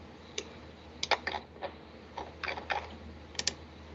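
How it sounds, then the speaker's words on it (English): Computer keyboard typing in a quiet room, a scattered run of light, crisp keystrokes in irregular bursts, close and fairly faint. "I've got to type it in."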